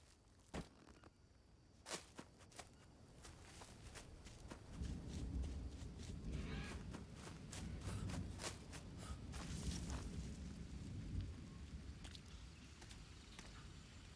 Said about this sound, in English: Got a rainstorm coming in.